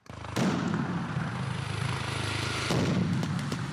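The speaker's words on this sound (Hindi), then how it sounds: "इशारा मिलते ही उन्होंने ताबड़तोड़ गोलियां बरसानी शुरू कर दी।" Heavy gunfire at a Serbian army military exercise, a sustained loud rattling burst of rapid shots that starts abruptly, runs nearly continuously with a brief break, then cuts off.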